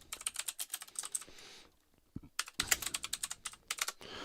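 Quick bursts of clicky computer keyboard typing, close and fairly quiet, with a short pause in the middle and no talk over it.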